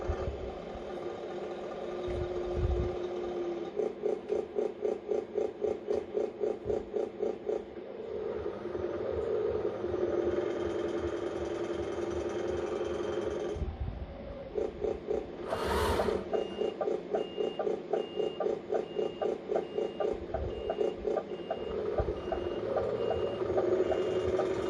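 Sound unit of a Tamiya Scania 770S 8x4 heavy hauler RC truck playing a steady idling diesel engine with rapid repeated reversing beeps, loud and close, broken by a brief pause and a sharp burst midway.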